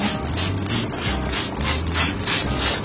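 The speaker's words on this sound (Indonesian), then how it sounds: "Langsung saja kita semprot." A hand sprayer applies a homemade tobacco-juice natural pesticide to vegetable plants, giving a steady run of rhythmic hissing spray and pumping pulses, close and continuous with no talking.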